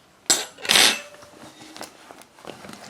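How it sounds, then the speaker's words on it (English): A cast iron pan of buttermilk biscuits shifted on a kitchen counter: two sharp metallic clanks close together, then faint scraping and small clinks. "So let's move our pan."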